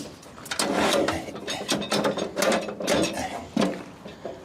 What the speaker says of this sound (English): all we do is simply adjust our legs by pushing in the little lever there, locking our leg in